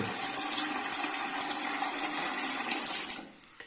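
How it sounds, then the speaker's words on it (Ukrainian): Water from the supply tap rushes steadily into a bucket for mixing plaster, a close, constant gushing fill that cuts off abruptly near the end, leaving a few faint knocks. "Заходимо до джерела постачання води, набираємо воду."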